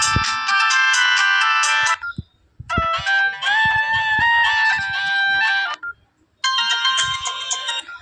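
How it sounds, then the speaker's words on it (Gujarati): Bursts of a basic mobile phone's electronic melody ringtone play loud and near, three phrases separated by short silences with light tapping in between, and no one speaks. "આ સાદા ફોનની રિંગટોન"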